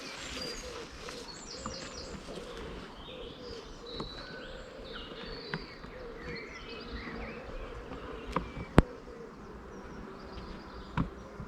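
A honey bee swarm buzzes steadily as it is dropped into a hive, with a continuous insect drone, a few sharp knocks near the end and faint bird calls in the background.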